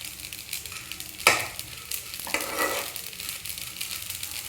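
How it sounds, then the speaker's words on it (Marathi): Rice roasting in ghee in a pan for kheer, stirred with steady scraping and a soft continuous sizzle, with two sharper stirring clatters early on; close and alone, no voices. "आपले तांदूळ या ठिकाणी छान असे भाजले जात आहेत।"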